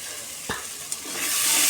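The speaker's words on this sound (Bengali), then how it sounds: "এটাকে ভালো করে কষে নেব।" Boiled mashed potato and cauliflower stir-fried in a pan, giving a brief hissing sizzle with a couple of scraping stirs that swell into louder frying noise near the end.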